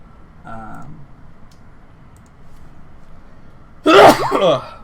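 A loud, sharp sneeze close up near the end, preceded by a brief faint vocal sound and quiet room background.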